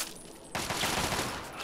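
Gunfire in the video game Fallout 3: after a brief quiet moment, a rapid burst of shots erupts and rattles on steadily, fairly faint overall.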